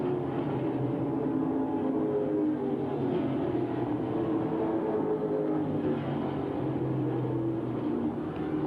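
Late model stock cars racing around a circle track at Langley Speedway in 1994, a steady roar of engines at moderate distance that holds throughout without pause.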